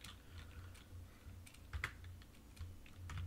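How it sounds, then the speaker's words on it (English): Keys clatter in quick irregular bursts as a password is typed on a computer keyboard during a Void Linux install, close and fairly quiet with short pauses between strokes. "Type in the password."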